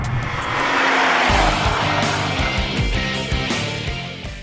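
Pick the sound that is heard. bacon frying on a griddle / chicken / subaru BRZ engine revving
subaru BRZ engine revving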